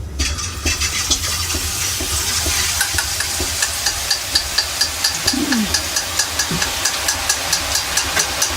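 Boondi batter dropping into hot oil, a loud, steady sizzle with regular sharp tapping clicks layered over it in a quick, even rhythm; no talking.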